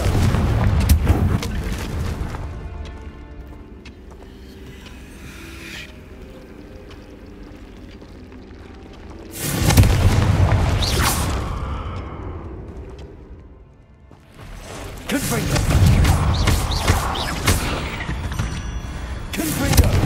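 Confringo blasting-spell explosions from Hogwarts Legacy burst out in three loud, roaring blasts, each followed by a rumbling decay, with quieter ambient stretches between them.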